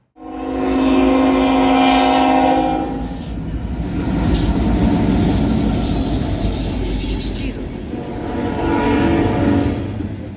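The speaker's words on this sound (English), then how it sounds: "First was loaded grain train" A loaded grain freight train on the Cleveland Line near Crescent, Pennsylvania, rolls past loudly, its horn blaring for a few seconds before the heavy rumble and clatter of wagons take over and continue.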